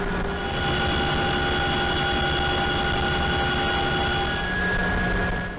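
A Chinook twin-rotor military helicopter gives off a loud, steady engine drone with constant whining tones, unbroken and close for the whole stretch.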